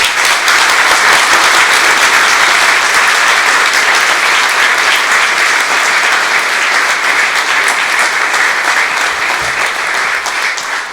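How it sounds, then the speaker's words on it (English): Audience at an exhibition launch event applauding, a dense and steady round of clapping that holds at full strength for eleven seconds before tapering slightly at the end. "Let's give all these wonderful people a round of applause."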